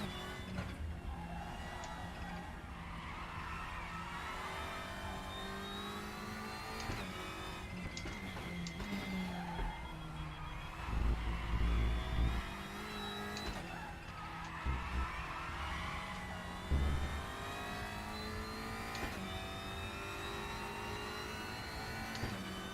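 GT3 race car engine in the RaceRoom racing game, a steady mid-pitched drone with shifting revs and brief louder bursts, tyre scrub and skid noise mixed in, continuous throughout with no talk.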